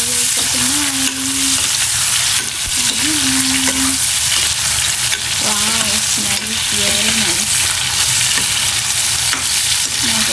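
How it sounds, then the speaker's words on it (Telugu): Prawns frying in a masala curry over a medium flame give a loud, steady sizzle with stirring scrapes, while a voice speaks intermittently underneath. "భలే ఉన్నాయి చూడండి, రొయ్యలు ఫ్రై అయిపోతున్నాయి."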